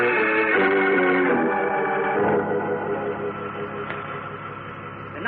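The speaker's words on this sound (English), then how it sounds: "It's just a mechanical hum from the power equipment." Steady mechanical hum from power equipment, a radio drama effect in an old Superman radio serial, with layered tonal drones holding throughout and a denser swell early on, no voices.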